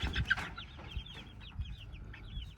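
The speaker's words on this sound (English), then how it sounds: "We got 20 birds in there, a mixture of barred rock, golden Wyandotte, Rhode Island red, golden comet" Mixed backyard flock of barred rock, golden Wyandotte, Rhode Island red and golden comet hens clucking and chirping in a chicken tractor, a steady close chorus of short overlapping calls with soft scuffling beneath.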